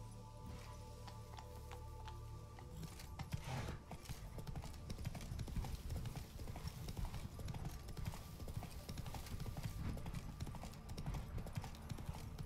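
Horse hooves clip-clop steadily in Witcher 3: Wild Hunt, Blood and Wine, a loud continuous rhythmic trot over a busy game soundscape, with a brief whinny-like accent near the start.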